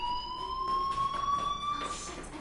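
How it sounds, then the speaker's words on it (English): A fire alarm in the Life is Strange video game sounds as a steady, piercing electronic tone that holds unbroken throughout, with faint background noise beneath it. "Hey, do you hear that fire alarm? That means you should be outside."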